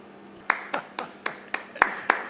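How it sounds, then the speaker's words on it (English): Seven sharp hand claps at an even, unhurried pace, each crisp and moderately loud, with no voices. "It's the sound of one hand clapping."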